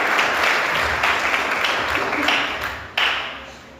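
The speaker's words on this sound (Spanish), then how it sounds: "Dale fuertes y aplausos al Señor." A church congregation breaks into a short, dense burst of clapping, loud and close. It tapers toward the end, with voices mixed faintly into the sound.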